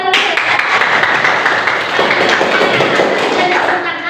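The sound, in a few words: class clapping hands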